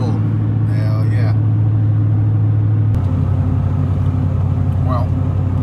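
A car cruises along a snowy road toward Anchorage with a continuous, loud engine and tyre rumble that never lets up, and voices can be heard faintly over the drone.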